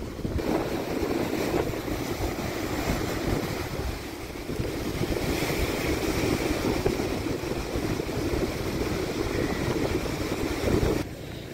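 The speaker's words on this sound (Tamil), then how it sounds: "காற்று சரியான மாதிரி வீசுது." Strong wind blows steadily at Valvettithurai beach in Jaffna, a loud, continuous roar of gusts and microphone buffeting mixed with surf, with boats nearby and no voices.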